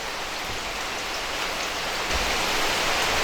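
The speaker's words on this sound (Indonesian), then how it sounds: "Jadi kita nggak bisa keluar nih ya teman karena situasi hujan." Steady heavy rain pours just outside a cave in North Nias, a dense unbroken hiss that is close and loud throughout with no talking.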